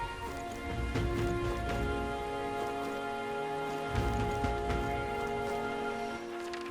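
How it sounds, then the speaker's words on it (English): Steady rainfall in the video game Metaphor: ReFantazio, a soft continuous patter held under a layered tonal game score, with faint scattered drops and no talk. "This bloody rain."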